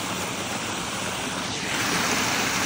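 A steady broadband rush of flowing water, continuous and fairly close, with no voices.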